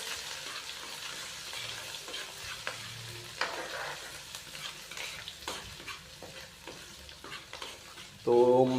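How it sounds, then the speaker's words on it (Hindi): Ginger garlic paste frying for masala chicken fry gives a soft, continuous sizzle with repeated stirring scrapes close by, and a louder burst of frying near the end. "अदरक और लहसुन के पेस्ट को इसके अंदर डाल के तो हल्का सा इसको फ्राई कर लेना है"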